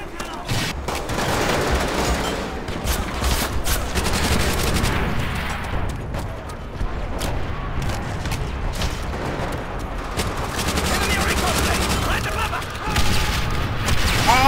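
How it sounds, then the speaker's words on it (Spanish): Dense gunfire and booming grenade explosions fill an online multiplayer match of Call of Duty: World at War, with rapid shots and repeated blasts continuing nonstop and loud, while a player's voice talks underneath. "hay tantos granados aquí."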